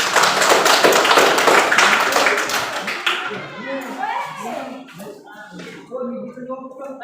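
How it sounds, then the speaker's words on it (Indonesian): A classroom of students claps loudly together for about three seconds. The clapping thins out and stops, and a teacher's voice carries on talking. "Jadi sekali lagi tepuk tangan untuk kita semua."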